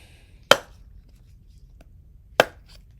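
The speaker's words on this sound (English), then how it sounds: "Let's see how it does on chopping." A Bestech Skirmish knife chops into wood in two sharp, close strikes about two seconds apart, each a single loud thunk over faint background noise.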